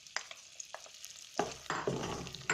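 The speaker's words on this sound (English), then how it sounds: "Give it a mix until the butter is melted." Butter, almonds and cinnamon sticks are stirred in a hot pan, with a few light scrapes and then a louder, steady sizzle as the ingredients move, close and without talking.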